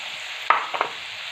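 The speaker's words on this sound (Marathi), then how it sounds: "हिरवी मिरची आपल्याला तिचा कच्चापणा जाईपर्यंत तेलामध्ये मस्त परतून घ्यायची आहे" Green chillies fry in oil with garlic, a soft, brief sizzle with a couple of light stirring taps over a quiet background.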